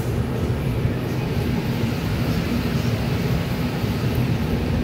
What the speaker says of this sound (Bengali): তো ফাইনালি গাইজ আমাদের ট্রেন আজকে ছেড়ে দিল।